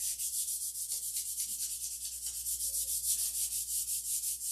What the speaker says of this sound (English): I've been sanding now for a week.